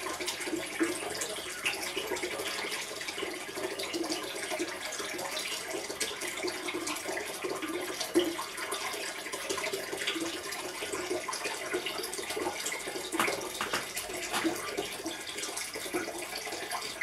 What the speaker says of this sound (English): Okay, sucking up. And it's spitting it out like anything.